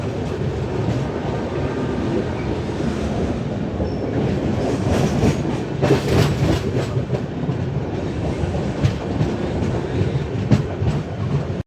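The Konark Express passes the Telangana Express on the line toward Secunderabad Junction, a steady loud rumble of train wheels with rhythmic clickety-clack and bursts of rail noise, heard from on board with no talking.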